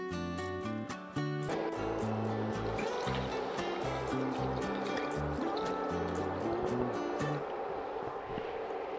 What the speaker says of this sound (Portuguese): Eu vou cobrir com 1 litro de caldo de carne.